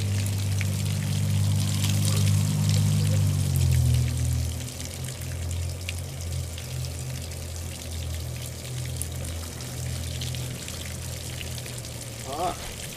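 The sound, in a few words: water flowing out of Yamaha outboard thermostat housing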